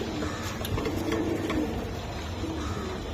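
Giribaj racing pigeons coo softly in a loft, their low murmuring calls blending into a steady background of birds without any talking.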